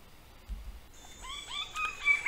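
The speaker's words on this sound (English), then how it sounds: "We may see the yellow-billed kingfisher, quite a common bird by voice, but sometimes very difficult to see." A yellow-billed kingfisher calling in West Papua, a few clear whistled notes in a short run, faint and somewhat distant over quiet forest background.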